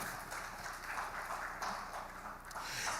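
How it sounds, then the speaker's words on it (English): An audience at the Ghana Economic Forum 2024 applauds its panelists, with faint, distant, steady clapping filling a large hall and no voices over it. "A round of applause for our panelists once again."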